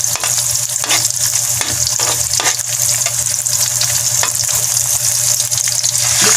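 Sardines sautéing in a hot pan, a loud, dense, continuous sizzle with faint stirring ticks throughout, no voices.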